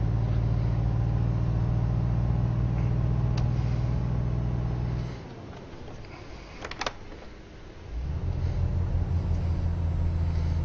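A stock, unmodified Volvo truck hauling a heavy load grinds uphill with a loud, steady low engine drone that drops away briefly during a gear change, then returns at full strength.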